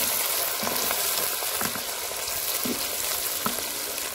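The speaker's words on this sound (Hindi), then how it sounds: "प्याज को हल्का सुनहरा होने तक भून लेंगे।" Onions fry in hot cooking oil in a kadhai, a steady close sizzle with occasional stirring scrapes throughout and no one talking.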